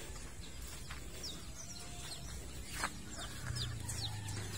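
Chickens on a native chicken farm at feeding time, with scattered faint clucks and chirps over a steady low outdoor rumble and a brief engine-like drone near the end.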